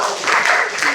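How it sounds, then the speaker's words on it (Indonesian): A classroom group applauds after a student presentation, a short burst of brisk, fairly loud clapping from several people. "Oke, tepuk tangan."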